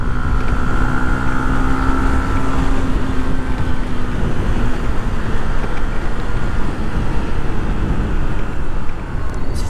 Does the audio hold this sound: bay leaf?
no